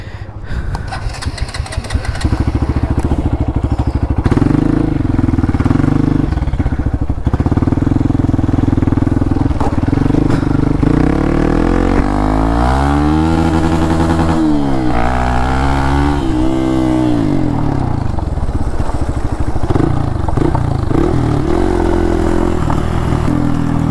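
A customized Kawasaki Z900 motorcycle with a full exhaust system, ridden at an auto expo, roars loudly and steadily, rising and falling through repeated revs as it pulls away and circles.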